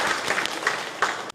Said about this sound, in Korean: 우리 수고한 친구들을 위해서 박수 한번 하겠습니다